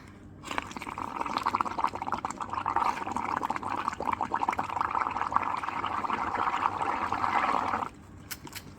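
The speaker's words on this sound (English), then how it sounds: "I just like blowing bubbles." Air is blown steadily into a shallow, roughly quarter-inch layer of saturated solution, making close, continuous bubbling and gurgling that lasts about seven seconds before stopping abruptly.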